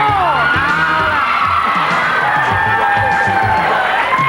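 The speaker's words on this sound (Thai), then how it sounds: "รู้สึกว่าจะสะใจกองเชียร์นะเชียร์ตลอด" Studio audience cheering squad on a 1991 Thai TV game show shouting and cheering, a loud dense crowd roar with whoops and excited voices going on continuously.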